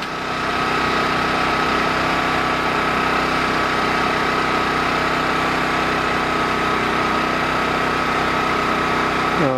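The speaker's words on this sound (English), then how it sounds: "It means the generator is running at slow speed, and that is the default." A Champion 200961 dual-fuel 2500-watt portable generator running on LPG idles at low speed in eco mode, a steady, close, even engine drone with a constant high whine and no talk.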